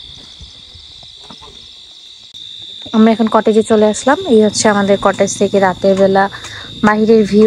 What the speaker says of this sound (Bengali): সরি ঝিঝি পোকা ডাকছে।